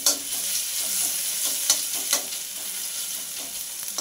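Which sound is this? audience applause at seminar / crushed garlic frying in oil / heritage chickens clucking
crushed garlic frying in oil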